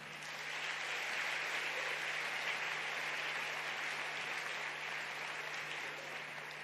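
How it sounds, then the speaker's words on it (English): Sustained audience applause fills a plenary hall at the KICC in Nairobi after the adoption of a declaration, a dense, steady wash of clapping lasting several seconds without any voices. "A bigger round of applause, please, as they take their seats."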